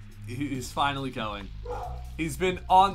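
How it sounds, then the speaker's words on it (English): A pet dog barks and yips several times indoors, the short bursts mixed in with a voice talking over them at close range. "I'm sorry if you hear my dog barking, by the way."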